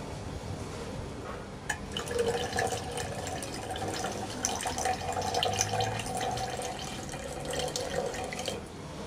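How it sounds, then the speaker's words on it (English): Water trickles and pours into a jar of oil, a steady close liquid splashing and gurgling that runs for several seconds with small drips and clinks, no voices. "if we add some water with less mass than the oil, we'll just put a little bit in and see what happens"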